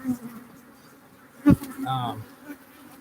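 Honey bees around an open hive during an inspection, a soft droning buzz with a brief louder burst mid-clip and a few close wingbeat passes.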